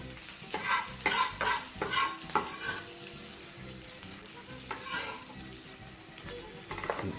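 Shredded cabbage is tossed and stirred in a hot frying pan, giving bursts of clattering scrapes and sizzle in uneven clusters, then a quieter stretch of frying before another toss.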